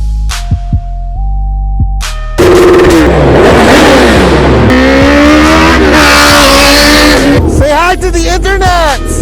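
A Two Brothers M2 V.A.L.E aftermarket exhaust roars up close with loud, repeated revs. The engine pitch climbs and falls, and excited voices are heard over the engine noise.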